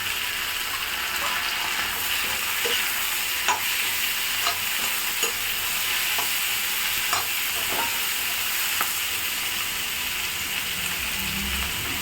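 Finely chopped cucumber and onion sauté in a hot pan, a steady broadband sizzle running throughout with repeated scraping stirs at irregular intervals and no talking.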